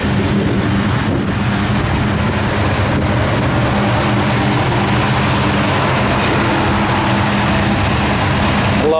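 A 1963 Dodge 330 engine runs steadily at idle, a continuous low rumble with broadband mechanical noise that stays even throughout.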